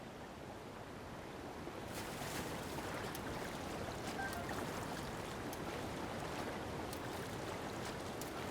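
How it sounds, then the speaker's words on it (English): Rushing waterfall water roars in The Legend of Zelda: Breath of the Wild, a constant broad wash of sound that swells slightly and holds steady with no talk over it. "Slide to another waterfall."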